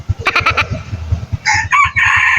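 A rooster crows loudly at close range, one drawn-out call broken into several strained bursts over low clucking and farmyard noise.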